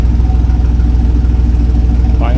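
A Jeep XJ with an upgraded Flowmaster exhaust idles close by, a loud, low, steady rumble with an even rapid pulsing throb, a brief voice breaking in at the very end.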